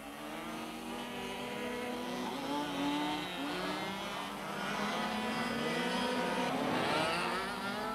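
Mini buggy racing cars compete on a club track at Saint Martin de Seignanx, their high-pitched engines whining and revving continuously at close range as several cars jostle through the race, with no voices present.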